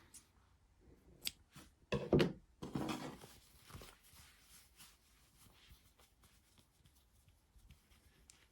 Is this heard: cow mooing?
no